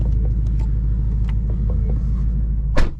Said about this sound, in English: let's go ahead and put it in neutral here and start it up.